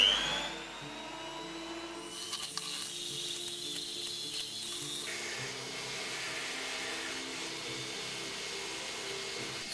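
An electric mixer whisks egg whites for macarons with a steady, high motorized whir that shifts pitch partway through as the beaters work, running on alone without talk.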